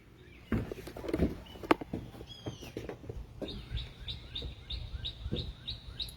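Birds chirp outside a house with a porch and sitting area, giving short repeated high calls in a steady series through the second half, with scattered rustles and knocks earlier and no talk.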